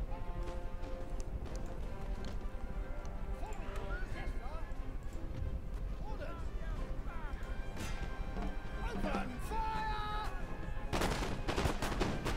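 Musket volleys in the Napoleon Total War video game, rapid dense crackling gunfire rattling continuously with occasional louder bursts, mixed with battlefield noise and a voice talking over it.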